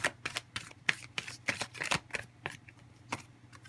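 Tarot cards are shuffled close up, a quick run of crisp riffling snaps and flutters that slows and thins toward the end.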